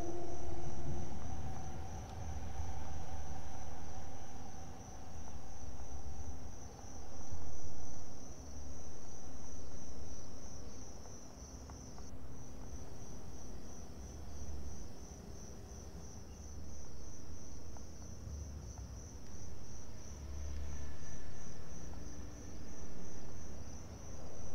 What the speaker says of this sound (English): there are cricket noises coming from it